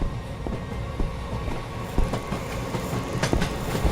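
A train running on rails in the Anant Express horror train game, a steady rumbling roll with regular clickety-clack wheel knocks and some metallic screeching, no talk.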